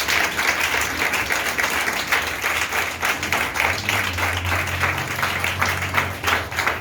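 Church congregation applauding at a Pentecost service, steady dense clapping filling the room throughout with no speech over it.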